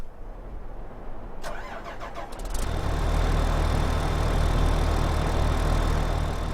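A JCB wheel loader engine in Farming Simulator 2015 cranks briefly with a few rattling turns, then catches and settles into a loud, steady rumbling idle.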